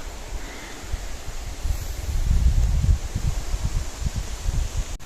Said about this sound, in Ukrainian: Вітер такий піднявся.